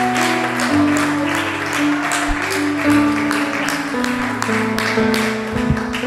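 A worship congregation claps during a church service while sustained organ or keyboard chords play underneath, a steady wash of applause running under the music from start to finish.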